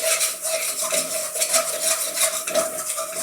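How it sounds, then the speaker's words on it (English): Spices frying in hot oil over high heat for a chicken chilli garlic Madras, a constant loud sizzle with rapid, busy stirring and scraping throughout. "fry about 30 seconds stir like mad now, and I whack the heat up to do that to get the oils out of those spices."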